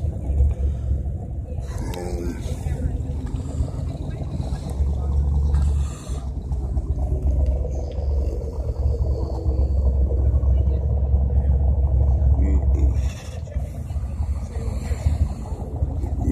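A 1970 Cadillac DeVille convertible with dual exhaust idles steadily, giving a deep, continuous low rumble throughout, with some wind noise over the microphone.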